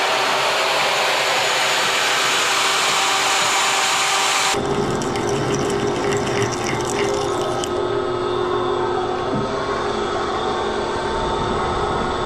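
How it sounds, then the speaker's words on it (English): Power tool cutting a small piece of steel plate for a car's transmission mount, a loud continuous grinding whine that shifts in tone partway through, then another change later as the cut continues, close and with no talk. "currently cutting out a little piece of plate"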